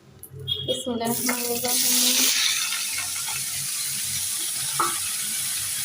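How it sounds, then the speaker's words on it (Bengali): Sliced potatoes, bitter gourd, onions and chillies hitting a hot pan on a stove, with an initial clatter settling into a steady, loud sizzle and hiss, close by, with no talking. "আলু উস্তি পেঁয়াজ মরিচ কেটে নিয়ে এসে চুলার উপর দিয়ে দিচ্ছি"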